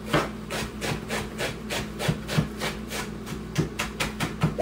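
Onions are chopped with a knife on a wooden cutting board, producing a steady run of about twenty crisp, close knocks at a quick, even rhythm, with no talk.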